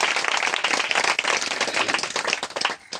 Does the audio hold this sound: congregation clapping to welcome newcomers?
yes